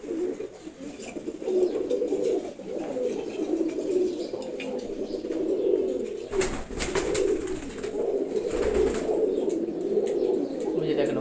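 A pigeon coos repeatedly in soft, rolling low phrases, close and steady, with a brief rustle partway through.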